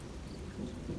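A thunderstorm with rain, steady rainfall with a low rumbling undertone, heard briefly and moderately loud, no voices.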